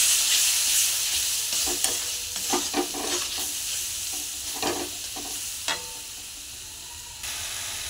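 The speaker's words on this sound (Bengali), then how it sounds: "ভালো করে মশলাটাকে ভেজে নেব" Spice masala of salt, turmeric, cumin, chili and coriander powder frying in oil in a pan, a steady close sizzle and hiss with intermittent stirring scrapes, fading slightly toward the end.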